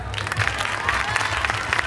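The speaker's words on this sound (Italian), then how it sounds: "se ti fanno un grande applauso" Steady applause from a pageant audience at a regional beauty contest final in Veneto, dense and continuous across the whole stretch at moderate volume, with no clear voices on top.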